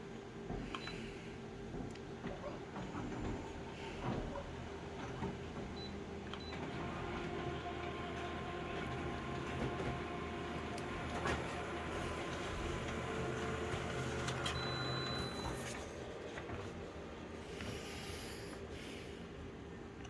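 An inkjet-style printer runs pages at home with a continuous mechanical whir and shuffle, broken by small clicks and short motor whines, at a moderate, close level.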